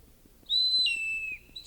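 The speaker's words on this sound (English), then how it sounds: "the friar clapped a pretty silver whistle to his lips, and blew a blast that was both loud and shrill" A loud, shrill blast on a small silver whistle rises sharply and then holds a steady, piercing tone for about a second before trailing off, alone over a faint low background.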